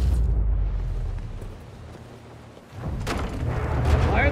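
Heavy bomb blasts in a video game, deep rumbling booms swelling, dipping briefly and then surging again in a dense, loud wash of explosions.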